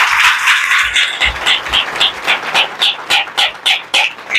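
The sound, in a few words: congregation clapping hands in praise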